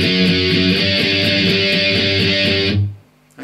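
Distorted electric guitar plays interlude A of a song: loud, even downstroke chugs repeat in a steady rhythm for about three seconds, then ring out and stop.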